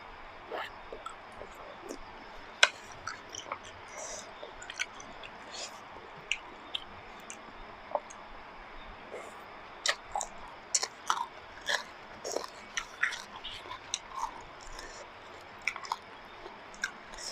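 Crispy squid being chewed with glass noodle yen ta fo, a close, quiet mouth sound with soft crunches and scattered bites that grow busier toward the end, no talking.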